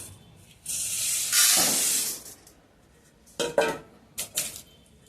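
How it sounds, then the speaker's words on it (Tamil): Chana dal, coriander seeds and urad dal dry-roasting in a pan for a masala powder: a bright sizzling hiss swells and fades, followed by several scraping, clinking stirs of the metal pan, close and without talk. "இப்போ நான் உங்களுக்கு சிறிதளவு எடுத்து இப்போ வறுத்து காமிக்கிறேன்"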